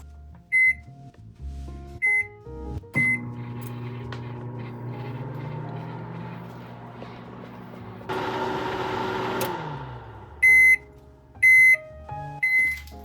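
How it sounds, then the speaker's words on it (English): A microwave oven hums steadily for several seconds, with short electronic beeps before and after the run, and a louder rattle partway through. "this is going to go in the microwave"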